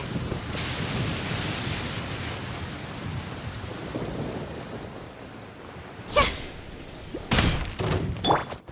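Heavy rain pours steadily in the Genshin Impact video game, a dense continuous wash with thunder rumbling near the end, and there is no talking.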